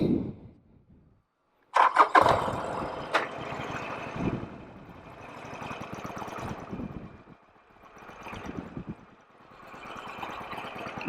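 A 2020 Harley Davidson Iron 1200 Sportster XL 1200NS engine cranks and fires after a brief silence, catching with a loud burst and then settling into a close, rumbling, uneven idle with a few blips of the throttle.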